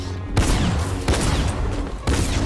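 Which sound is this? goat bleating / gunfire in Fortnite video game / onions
gunfire in Fortnite video game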